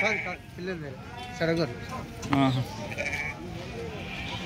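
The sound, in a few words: Telangana sheep bleating at goat market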